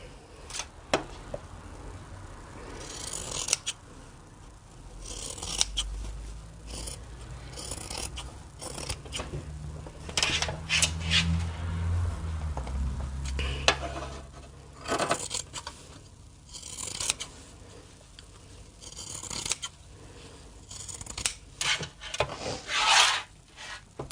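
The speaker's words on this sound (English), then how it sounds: "if you've got any overhang of the zip here, just going to trim it back" Scissors snip through fabric and a zip overhang while finishing a sewn tool wallet book for English paper piecing, giving close, quiet rasping and rubbing cuts in irregular bursts with no talking.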